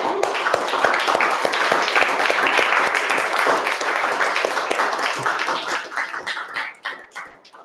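Meeting audience applauding in a room, a thick wash of clapping that holds steady then thins out into scattered individual claps toward the end.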